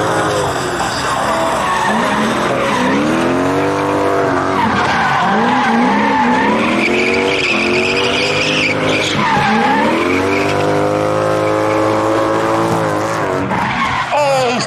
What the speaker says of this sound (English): To je Otin V8 unutra